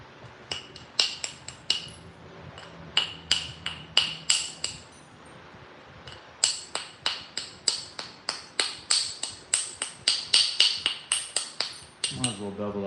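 Flint being knapped, stone struck repeatedly to thin and bevel an edge: sharp, bright clicking taps in rapid bursts, near and loud, with brief pauses between runs and no talk.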